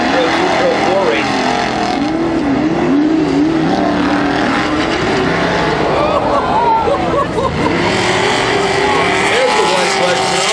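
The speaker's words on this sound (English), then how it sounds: "you'll see cars and trucks flying past that 100-foot mark" Off-road race cars and trucks roar past at Motorpark Midwest, with loud, continuous engine noise that rises and falls as vehicles go by, mixed with a crowd murmur and commentary talk.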